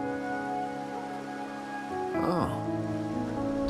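Rain in the video game Wuthering Waves falls as a steady soft hiss beneath sustained musical tones, with a brief swooping sweep midway and no voices.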